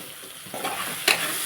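Fried brinjal being stirred with coriander in a pan, a spoon scraping and tossing the pieces over a soft sizzle, with two brief louder scrapes in a short close burst and no talking.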